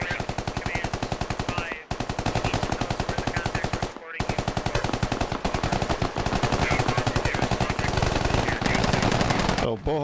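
Dense, continuous automatic gunfire from the SquadOps shooter, rapid bursts running almost without pause over several seconds with brief gaps, loud and close, friendly fire among squad members during an operation.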